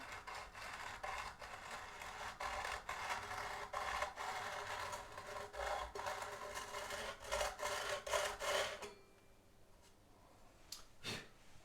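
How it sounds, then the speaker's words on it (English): A metal file rubbed up and down the fretboard of a ukulele to smooth sharp fret ends, a steady rasping scrape in repeated close strokes that stops near the end, leaving a couple of faint knocks. "I'm just going to rub up and down the fretboard and trying to keep it at the same angle."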